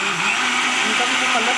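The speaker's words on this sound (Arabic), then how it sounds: "هنضرب بقى في الخلاط ونرجع لكم تاني" A kitchen blender whirs steadily as it mixes milk, a loud continuous motor drone filling the short moment without pause.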